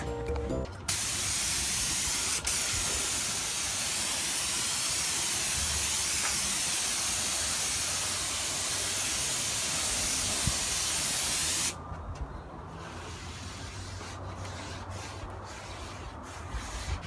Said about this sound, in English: So I'm gonna be a little bit more aggressive with the wiping